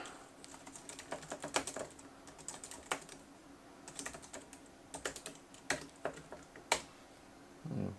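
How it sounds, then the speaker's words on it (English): Quiet clicks of typing on a computer keyboard come in short irregular bursts of keystrokes, close by with no talking. "Keyboard works as well."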